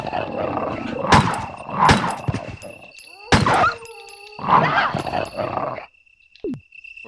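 Attacking dogs in Resident Evil 1 snarl and roar in several loud, close bursts with thuds and metallic stings, then the noise drops into near silence at the end.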